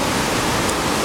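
Indian Springs Creek, flooded and spring-fed after days of heavy rain, roars close by as a loud, continuous rush of churning water, with no voices.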